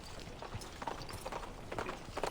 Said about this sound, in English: her horse rises before breaking into a few quick strides